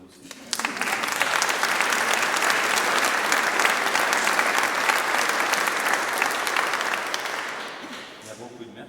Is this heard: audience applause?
yes